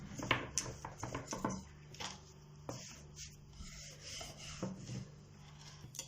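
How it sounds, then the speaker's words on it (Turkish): Dough for katmer-style layered pastry rolled out by hand on a board, giving soft rubbing and scraping strokes at an uneven rhythm, quiet and close, with no talking. "Ve ilk hamurumdan açmaya başlıyorum."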